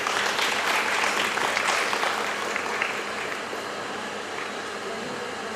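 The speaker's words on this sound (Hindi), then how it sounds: "जोरदार तालियों से।" Loud, dense applause fills a large gathering at a religious discourse event, a sustained wash of many hands clapping that eases slightly toward the end, with no voice over it.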